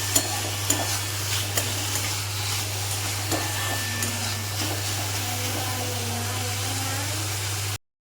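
Chopped onions fry in a pan while being stirred, a steady low sizzle with occasional scraping clicks over a constant hum, and a voice talks intermittently through it.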